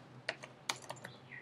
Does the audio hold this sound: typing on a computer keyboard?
yes